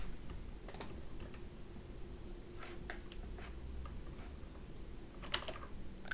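Quiet computer keyboard typing at a desk while coding a game client, soft irregular key clicks in short bursts with a few pauses, close and faint with no talking.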